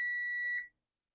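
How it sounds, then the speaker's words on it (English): A kitchen timer beeps once while pan de muertos is being made: a single steady, loud electronic tone lasting under a second, then silence. "got to turn timer off."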